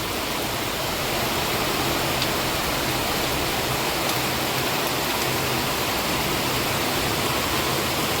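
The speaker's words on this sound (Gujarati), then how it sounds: "અહીંયા નીચે આપણી શેરીમાં જો પાણી જાય છે નદીની જેમ" Heavy monsoon rain pours down in Junagadh while floodwater rushes along the street like a river, a loud, steady, broadband roar that fills the whole clip without a break and carries no voices.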